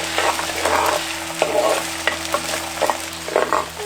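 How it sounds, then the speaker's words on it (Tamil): Chopped small onions with salt sizzle and fry in hot oil, with occasional stirring scrapes and clinks over a steady crackling hiss. "ஐம்பது கிராம் நறுக்கின சின்ன வெங்காயம் கூடவே கொஞ்சம் உப்பு சேர்த்து வதக்க ஆரம்பிச்சிருவோம்"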